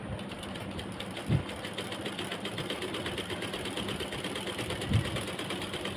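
A sewing machine runs steadily, its needle stitching a dupatta in a fast even whir with two brief louder knocks, close and alone.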